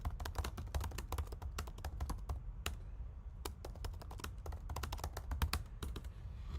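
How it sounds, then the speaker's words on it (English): Someone types on a computer keyboard at a fast, uneven pace, with sharp individual key taps and occasional louder strokes, close up over a low steady background hum. "you'd rather hear the keyboard"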